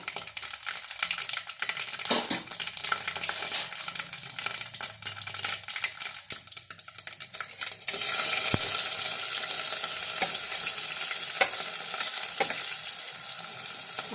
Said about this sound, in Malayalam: എണ്ണ ചൂടായിട്ടുണ്ട് എണ്ണയ്ക്കകത്തേക്ക് കടുക് ഇട്ട് കൊടുക്കുക